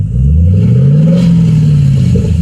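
A 2015 Chevrolet Camaro 2SS with quad exhaust revs up, its deep engine note rising, holding, then easing off, loud and close with no speech.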